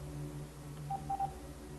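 Phone keypad dialing tones during an emergency 911 call, a few short faint beeps in quick succession over a low steady hum.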